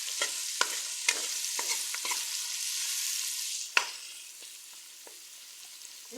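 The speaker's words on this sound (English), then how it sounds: "And then saute the vegetables into the oil." Vegetables sautéing in hot oil for a coconut curry fish, a steady close sizzle broken by sharp scrapes and clacks of a spoon stirring the pan, with no talking.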